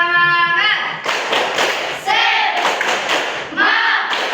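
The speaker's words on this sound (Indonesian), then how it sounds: "Tepuk semangat." Group of participants at a school training session doing a rhythmic spirit clap, loud bursts of clapping in patterned sequences mixed with chanted voices, close and energetic.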